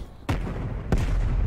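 Grenade explosion in a shooter video game: two sharp, loud booming blasts about two-thirds of a second apart, each with a short rumbling tail, close and clear with no talk over them.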